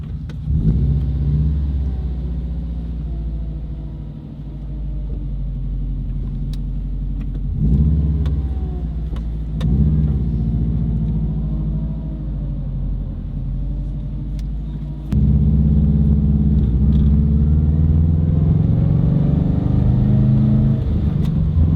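A Subaru WRX wagon with an EJ205 engine drives on a first test run, a steady low engine rumble heard from inside the car that swells under acceleration and shifts, loud and continuous with no talking.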